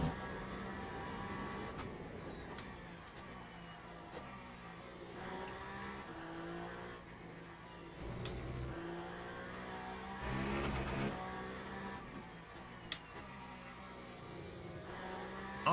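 Hypercar engine in Le Mans Ultimate racing around the Spa circuit, a steady high-pitched drone with rising and falling revs through gear changes and a few sharp clicks, continuous and fairly faint.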